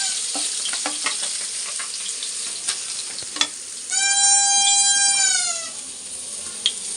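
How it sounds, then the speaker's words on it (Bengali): Small puti fish fry in oil in a karai, a steady close sizzle and crackle running throughout, while a cat meows once in the middle. "আমি এপিট ওপিট করে একটু ভেজে নেব"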